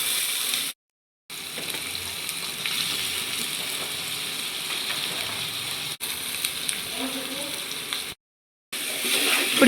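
Masala and chicken fry in a pan for a chicken gravy curry, a steady close hiss and sizzle running through nearly the whole stretch, broken by two brief silent gaps.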